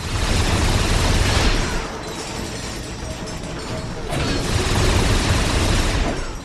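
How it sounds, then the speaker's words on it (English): Enemy gunfire in Ratchet and Clank Future: A Crack in Time, in Axiom City: dense, loud mechanical bursts and booms that surge, ease off briefly, then swell again, with no talking. "What is shooting at me?"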